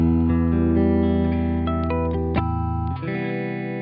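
Electric guitar played through amp-simulation software on its stock setting with no reverb, sustained distorted chords ringing out with a few picked changes, dry and upfront without any talking.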